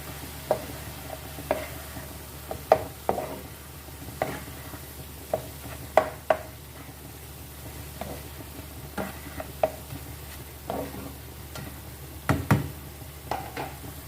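Minced beef with green chilies and tomatoes is stirred in a pan, a quiet sizzle under repeated knocks and scrapes of the spoon against the metal in an irregular rhythm, with no talking.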